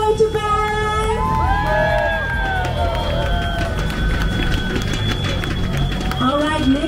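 Crowd at Singapore's Purple Parade community event cheers with overlapping whoops and excited shouts, loud and close at first, then thinning into a lingering murmur before a final rise.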